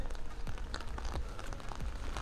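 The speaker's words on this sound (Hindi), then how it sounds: "वेदर बहुत ही एकदम कंटिन्यूस बारिश हो रही है।" Continuous rain falls in Norway, making a constant dense wash with soft low thumps of drops, no voices.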